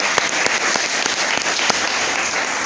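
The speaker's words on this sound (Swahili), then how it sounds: "Hebu tupe Bwana sadaka ya makofi kwa sababu ya neno lake." Church congregation applauding together, a dense sustained wash of clapping with sharper individual claps standing out, loud and even throughout.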